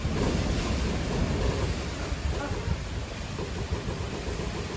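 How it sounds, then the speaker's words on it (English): Strong hurricane wind roars steadily outside, a dense, continuous rushing noise like surf with gusty fluctuations, fairly faint and distant throughout. "Ooh, it's strong out there. Ooh, that wind strong."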